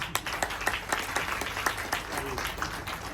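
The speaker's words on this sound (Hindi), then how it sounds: "जोरदार तालियां इनके लिए।" Audience applause at a networking gathering, with moderately loud clapping carrying several sharper individual claps over the crowd, while voices murmur faintly underneath.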